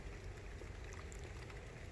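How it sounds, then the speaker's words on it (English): Rain falls outside during a 5th-gen glass sunroof prep on a car, a faint steady hiss of drops with no voices. "And with our luck, it's raining."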